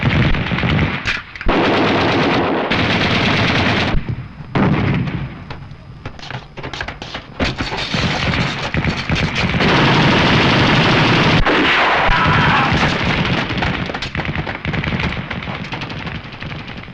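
Wartime drama battle scene with a machine gun firing in loud rapid bursts, broken by short pauses and mixed with shouting voices and other combat noise.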